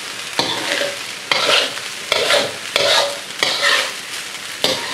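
Chicken and egg fried rice stir-fried in a wok on high flame: repeated sizzling bursts with rhythmic scraping tosses, about six strokes, close and loud.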